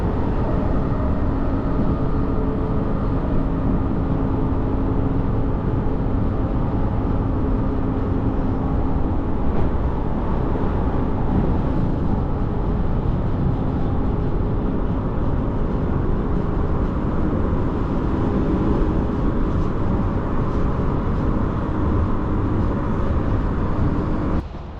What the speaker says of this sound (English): I'm gonna board the train and enjoy the ride back to Perth.